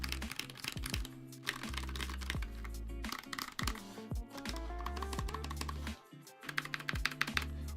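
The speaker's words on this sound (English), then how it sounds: "This is definitely better sounding than most gaming keyboards." Rapid typing on an NK65 mechanical keyboard fitted with swapped switches, a dense run of close, crisp keystroke clicks and clacks with brief pauses, played on its own without talk.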